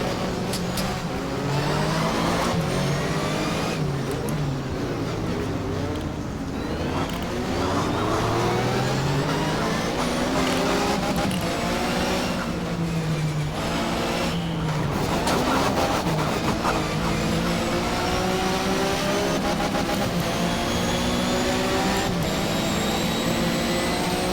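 Porsche race car engine in a racing video game at Jyllandsringen, a steady loud drone with rising and falling harmonic sweeps as it revs up and down through gears, running continuously with no talk.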